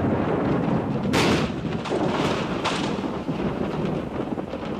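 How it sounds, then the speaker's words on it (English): Thunder from an approaching storm rolls and echoes across mountain hills, a continuous deep loud rumble broken by two sharper cracks, with wind noise and no rain. "The hills echo the coming storm"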